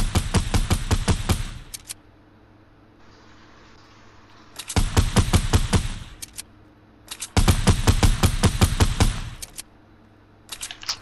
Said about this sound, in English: Thought I just heard someone shoot.